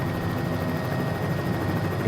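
A helicopter flying around Key West gives off a steady, loud rotor-and-engine drone, continuous and close throughout.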